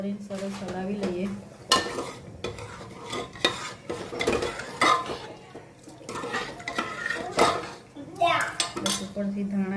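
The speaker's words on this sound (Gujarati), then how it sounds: "બસ ગેસની ફ્લેમ ફૂલ કરીને સરસ હલાવી લઈએ." Panchmel dal is stirred in a pressure cooker over a full gas flame, with a spoon scraping and clinking against the metal in irregular close strokes and a faint voice at the start and end.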